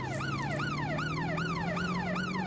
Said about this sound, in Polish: Mogę syrenę włączyć.